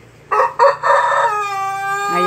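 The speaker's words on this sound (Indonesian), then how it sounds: "Ini ada ayam pelungnya yang berbunyi ya" A Pelung rooster crows close by near a coop under a mango tree on a home terrace, its long drawn-out call following a few short loud bursts, with no speech over it.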